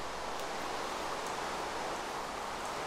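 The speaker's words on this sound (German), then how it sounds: "Jetzt, wo es regnet, können wir nochmal schnell die Felder abernten." Steady, even rain falls in Minecraft, a soft continuous hiss with no breaks and no voices over it.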